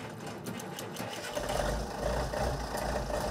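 A Moline tractor with front-wheel assist runs with a rough, barking engine note, a steady mechanical clatter that swells louder and deeper partway through and then holds at a strong, close idle-to-working rumble.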